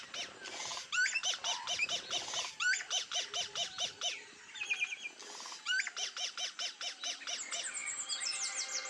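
A male bird sings a territorial song of rapid, repeated chirping trills. The bursts come in quick rhythmic phrases, close and clear, with some overlapping calls in the background.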